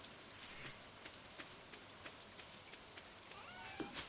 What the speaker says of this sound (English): Okay, good, it's raining.